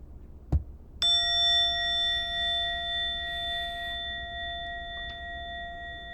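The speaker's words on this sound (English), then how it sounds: "in a moment, you'll hear a bell or a chime" A single clear bell chime rings out after a soft tap, its pure tones sustaining and slowly fading away in quiet surroundings.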